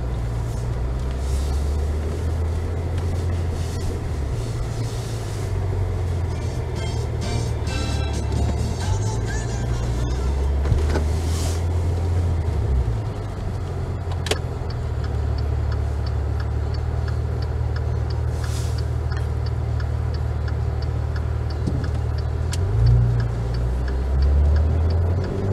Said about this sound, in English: We'll put it in sport for the drive just so you guys can really hear the exhaust.